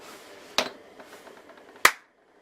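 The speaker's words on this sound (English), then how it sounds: "Just try clapping your hands." Two sharp, separate hand claps in a quiet old prison interior, testing for echo, each one crisp and close with a very short, flat decay and silence between them.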